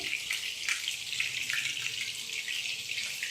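Handi kababs fry in oil over a medium flame, producing a steady, close, hissing sizzle that holds evenly throughout with no talking.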